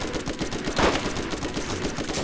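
A gun in Borderlands fires a dense, continuous burst of rapid shots, loud and close, with one heavier blast standing out near the middle.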